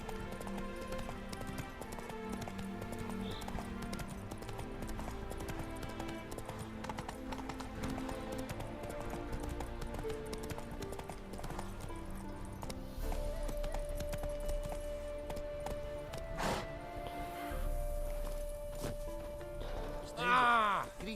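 Roach, Geralt's horse in The Witcher 3, gallops in a steady rhythmic clip-clop of hooves, continuous and moderately close, over game music and ambience, with a brief whinny-like flourish near the end.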